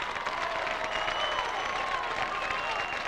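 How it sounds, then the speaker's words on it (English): A Hudson high school football crowd at a 1998 varsity game cheers and claps steadily from the stands, a continuous mid-distance roar of applause. "Hudson crowd comes to their feet, trying to cheer their team into the end zone"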